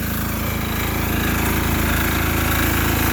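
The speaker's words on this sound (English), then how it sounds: "So that's the diesel off the Toyota 3B diesel engine, 3-liter diesel" A Toyota 3B 3-liter four-cylinder diesel engine runs loud and steady, a close, constant rattling drone with fast regular knocking and no pauses.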